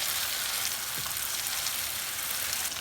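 Potato pieces for tandoori aloo fry crackle in hot oil, a steady, fairly quiet sizzle with one brief soft clink near the start.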